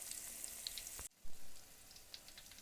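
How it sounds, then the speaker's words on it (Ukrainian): Steady crackling sizzle of cauliflower in cheese batter deep frying in plenty of hot oil, with a brief break midway before the bubbling resumes. "Смажимо у великій кількості олії до золотистої скоринки."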